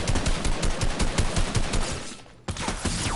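Rapid automatic gunfire in a building-and-shooting video game, with loud close bursts in quick succession, a short lull near the end, then firing that starts again.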